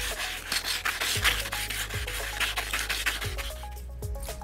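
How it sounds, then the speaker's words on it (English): 240 grade wet and dry sandpaper rubs with light pressure across barnacles on a sonar head, giving a close, rhythmic scratchy rasp in repeated strokes, with faint tonal hums underneath. "we take a piece of wet and dry sandpaper like this, 240 grade, and using light pressure only, give those barnacles a sanding down"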